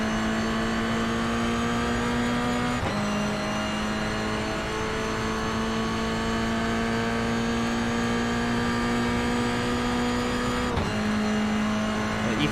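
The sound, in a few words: Toyota GR86 race cars racing at Long Beach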